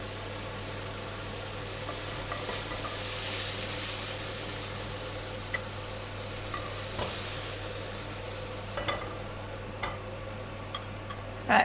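A powerful but rather noisy kitchen extractor fan runs over a hob with a steady low hum and broad whooshing roar. Faint pan sizzle and a few ticks sit beneath it, and the airy noise cuts off sharply near the end.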